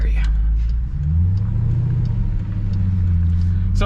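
A 2021 Dodge Durango SRT Hellcat SUV drives with a loud, steady low engine rumble and road roar throughout, with a person talking over it.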